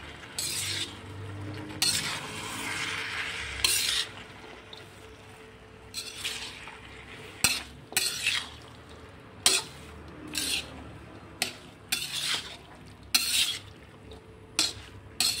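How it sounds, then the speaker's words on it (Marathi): Mixed vegetables tossed into fried masala in a large pot, about two kilos, stirred with repeated scraping and clinking strokes of a spoon against the pot over a low steady sizzle, no talking. "आपण यात आता मिक्स भाज्या टाकून घेऊया"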